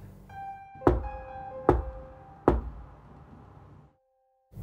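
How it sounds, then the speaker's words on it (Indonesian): Three sharp, evenly spaced knocks from inside a wardrobe sound close and distinct over a low hum and faint tones, with a short pause before the sound cuts off. "ada suara ketukan yang aneh dari dalam lemarinya"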